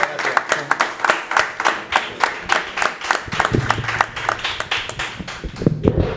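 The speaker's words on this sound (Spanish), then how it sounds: "Un aplauso, un fuerte aplauso." Audience applause on a television programme, loud rhythmic handclapping close by, with a few voices speaking over it.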